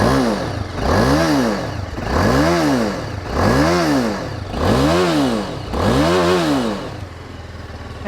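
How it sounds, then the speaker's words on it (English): A TVS Apache RR 310 motorcycle engine and exhaust rev repeatedly, five or six loud rising-and-falling blips in steady rhythm over a rumbling idle, heard up close. "this motorcycle has had a change in the exhaust note too"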